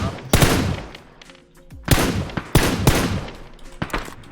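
M4 rifle fire in the PUBG video game, loud sharp bursts and single shots cracking in close succession with echoing tails, several clusters over a few seconds.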